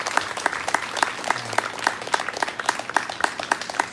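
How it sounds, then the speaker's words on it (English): An in-person audience at a Warby Parker author event applauds author Hermione with a moderate crowd of hands clapping quickly and steadily, with some individual claps standing out sharply throughout. "Everybody, a big round of applause for Hermione."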